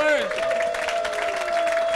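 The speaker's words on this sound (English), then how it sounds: "Give a round of applause to yourselves, guys!" A live pub gig audience claps and cheers for the bands, a dense wash of applause over a sustained tone, with a voice talking above the crowd.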